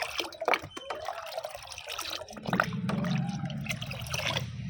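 Milk is stirred into five litres of plain water to make a calcium fertiliser for plants, giving close liquid sloshing and trickling with dripping splashes throughout.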